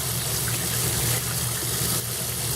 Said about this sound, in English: Wash them off really good with water and strain the heck out of it.